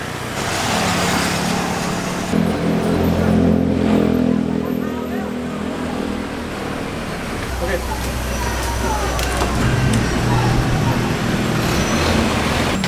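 City bus ride into Chinatown, Bangkok: a steady, loud engine drone and road rumble fill the whole stretch, with traffic noise and a shift in engine pitch partway through, and voices faintly underneath.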